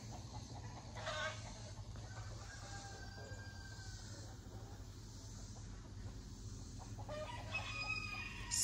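Backyard chickens on an off-grid homestead cluck and a rooster crows, faint and somewhat distant, with occasional louder squawks over a low steady hum.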